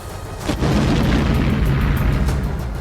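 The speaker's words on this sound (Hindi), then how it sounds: "उस जंगी जहाज पर भयंकर विस्फोट होता दिखाई दिया।" A loud, deep explosion erupts on a warship at sea after a brief moment, followed by a sustained roaring rumble that slowly fades.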